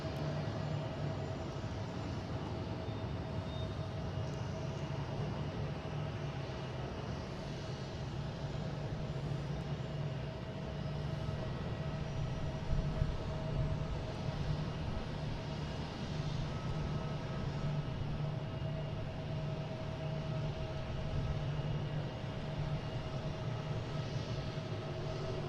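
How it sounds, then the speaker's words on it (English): A JetBlue Airbus A320 bound for Buffalo takes off at Boston Logan, a steady, sustained broadband engine roar holding at even loudness for the whole stretch, with a low constant hum underneath and no voices. "taking off next, we have JetBlue flight 1115. Heading to Buffalo, an A320."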